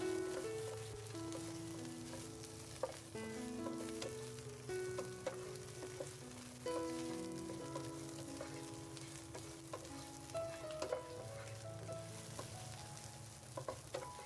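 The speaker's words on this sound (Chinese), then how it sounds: "这时候加入鸡肉， 大火一起翻炒一会儿。" Fried chicken pieces and dried chillies are stir-fried in a wok over high heat, giving a steady close sizzle with scraping, clattering spatula strokes and occasional ticks throughout.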